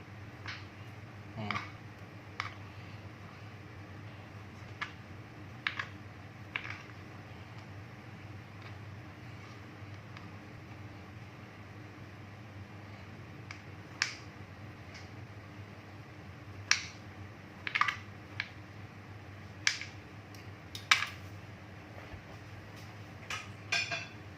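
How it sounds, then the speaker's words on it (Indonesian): A knife cuts a block of tempeh into pieces on a board, giving scattered sharp ticks and taps, some sparse and some in quick clusters, over a low steady hum. "ayeuna urang potong-potong bae tempena. Dibagi karena sababaraha bagian. Nah, terus diiris"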